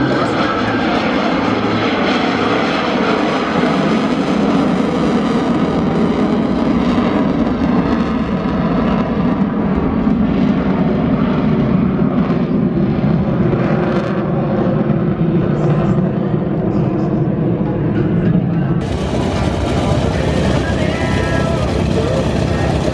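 Fixed-wing airplane at an air show taxiing after landing, its engine running steadily and fairly close for the whole stretch, with a brief louder surge near the end; a voice talks faintly over it.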